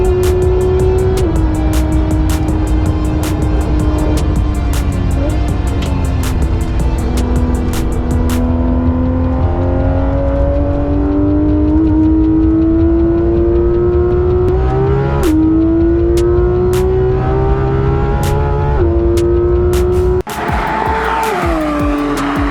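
A Porsche 911 GT3 RS on the Oulton Park circuit sounds loud and close throughout, its engine rising and falling through repeated upshifts and braking while the tyres squeal through the corners.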